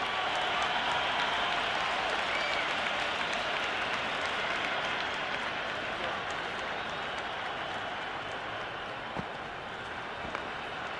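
Stadium crowd noise in a cricket video game during an India vs New Zealand ODI, a dense continuous roar of applause and cheering at steady loudness throughout.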